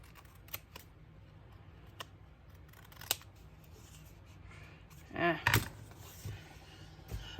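Scissors trim a small watercolor paper tag, giving a few sparse, quiet snips and clicks scattered through a hushed room, with a brief louder rustle and clatter near the end.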